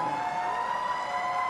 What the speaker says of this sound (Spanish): Sirenas de bombero.